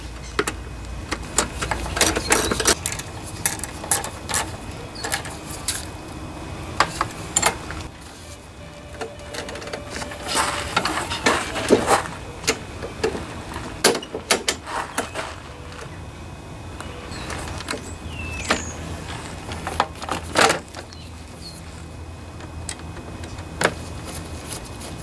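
Small plastic-mount bolts being tightened by hand on a Briggs and Stratton lawnmower during pull-rope replacement, heard as scattered clicks, ratchety taps and brief metallic scrapes, close and moderately loud, with no one speaking.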